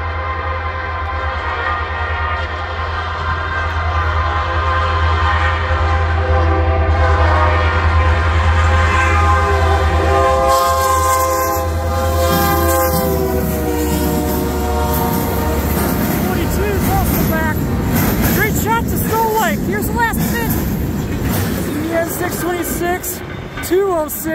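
CN 5454, a northbound freight train at Ladysmith, rumbles past close and loud, and its horn sounds in long sustained blasts midway, with the passing cars clattering afterward.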